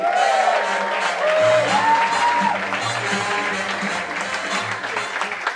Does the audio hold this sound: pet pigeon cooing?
no